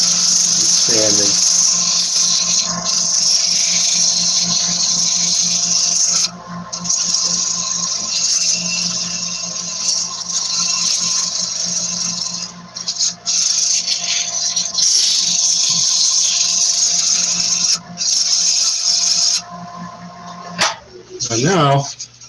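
A turned wooden bowl is sanded on a lathe at a maker faire, giving a continuous loud hissing, rasping drone with brief dips, and a voice speaks near the end.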